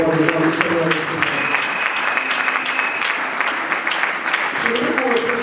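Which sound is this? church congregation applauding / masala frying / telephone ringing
church congregation applauding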